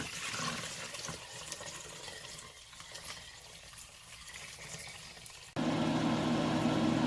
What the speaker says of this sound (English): Alright, next I'm going to strain off the broth.